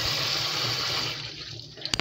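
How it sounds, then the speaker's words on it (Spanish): Cold tap water runs steadily while cooked spaghetti drains in a kitchen sink, a loud, continuous rushing wash that fades slightly near the end, followed by a few short clatters. "Y voy a abrir el chorro del agua y voy a vaciar mi pasta a que escurra."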